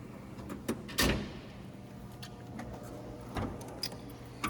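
A drawer slides on its runners in a Snap-On Masters 63-inch metal tool box, giving a brief clattering rumble with a sharp knock near the start and a few lighter ticks and bumps afterward, close and moderately loud.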